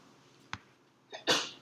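A single sneeze during a classroom lecture, preceded by a brief sharp intake sound, then one loud close burst near the end of an otherwise quiet moment.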